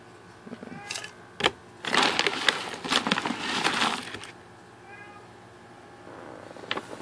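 House cats meow loudly at midnight, several drawn-out close calls and yowls in a row with quieter shuffling between them.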